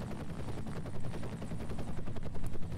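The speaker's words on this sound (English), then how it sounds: "I hear a helicopter outside though," Helicopter rotor chopping steadily outside in the F.E.A.R. video game, a continuous rhythmic thumping with dense low rumble, mixed with rapid pulsing that resembles gunfire, loud and sustained throughout.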